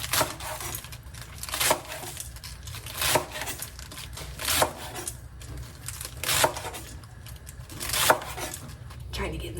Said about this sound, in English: I am just about to actually cut up my romaine lettuce for the salad.